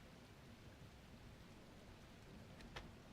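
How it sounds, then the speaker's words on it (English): Rain falling in the video game The Last Caretaker, a steady soft hiss of rainfall with a brief louder patter near the end, played quietly and alone. "It starts raining again."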